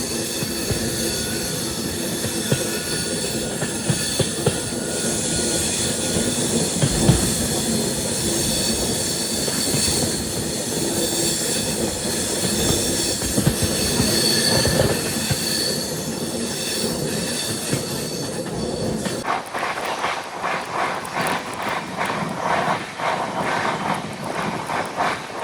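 Indian long-distance passenger train in general class, running on the rails between Delhi and Vijayawada. A loud, continuous rumble and clatter carries wheel squeal throughout, and the sound thins and drops suddenly near the end.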